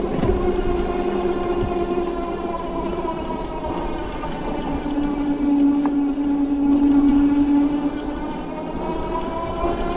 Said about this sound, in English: I'll be quiet so you can hear the motor again through this last steep section